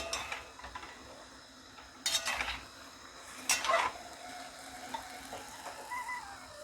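Utensils scrape and knock against a pot of plov in a few brief bursts, with soft clinking in between and no voices.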